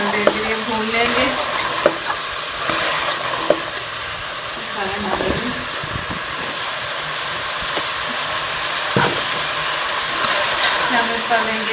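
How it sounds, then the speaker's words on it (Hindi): Radish pods (mongray) frying in masala for an aloo mongray sabzi: a loud, constant close-up sizzle with rhythmic spatula stirring and occasional sharp knocks on the pan. "और मोंगरे डाल के भी तो मसाले में हम थोड़ी देर के लिए भून लेंगे।"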